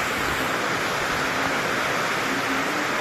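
Heavy rain pouring steadily in an outdoor Philippine setting, a dense, continuous hiss filling the whole scene with no breaks and no voices.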